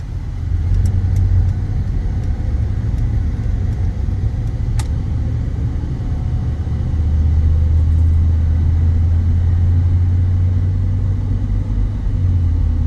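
Steady low engine drone and road rumble inside the cab of a 1989 Chevrolet C/K 1500 pickup truck while driving, loud and continuous, with a faint ticking sound at the start and no talking.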